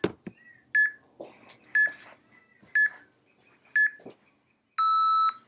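A workout interval timer gives four short electronic beeps about a second apart, then one longer, sustained tone, with faint thumps between them in a quiet room.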